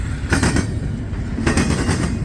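A freight train rolls past close by, its wheels giving loud rhythmic clacks and thumps over rail joints above a continuous heavy rumble, with no voices.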